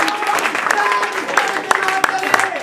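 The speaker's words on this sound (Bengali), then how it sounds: "ওর জন্য জোড়া হাততালি, আরো জোরে।" Audience applause at a live college farewell concert at BESU Shibpur in 2011: a steady patter of claps with sharp individual hand hits, mixed with crowd voices and lingering tones.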